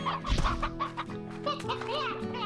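Chickens in the farming game Slime Rancher cluck repeatedly in quick, overlapping bursts, close and fairly loud, with a busy electronic game-sound bed running underneath.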